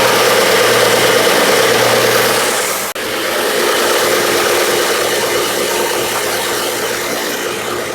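A belt sander fitted with 220-grit abrasive sands the end grain of a wooden workpiece, giving a loud, steady whirring hum with a brief dip near the middle as contact shifts.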